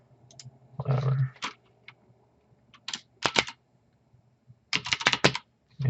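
Irregular bursts of keystrokes sound on a computer keyboard while entering a password, with quick clusters of close, crisp clicks separated by short pauses.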